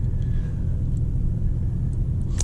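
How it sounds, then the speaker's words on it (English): A BMW M340i xDrive drives in sport mode, its engine a steady, continuous low rumble heard from inside the cabin with no pauses or surges across the short span. "So we're driving in sport mode now. As you can see, it's a little louder."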